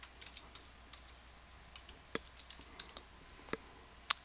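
Light, sparse keystrokes on a computer keyboard, typing a short file name, with a few isolated taps spread across a quiet room and one sharper click near the end.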